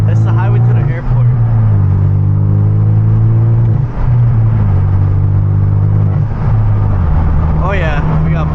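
Turbocharged Hyundai Genesis Coupe cruising on a quiet highway, its engine a steady loud drone that rises and falls in pitch as it shifts through the gears, close and continuous from start to finish.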